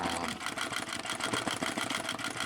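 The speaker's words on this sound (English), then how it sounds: "I'm just doing a bunch of straight stitching" Sewing machine running continuously in free-motion machine embroidery, doing straight stitching with the feed dogs lowered and the hoop moved by hand; a steady, fairly fast rhythmic needle clatter close up, with no talk.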